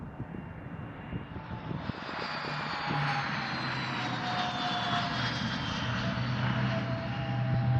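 Gulfstream private jet on final approach to runway 21 at Scottsdale, its steady jet engine roar building slowly and continuously over about eight seconds, with a faint whine on top and no talk.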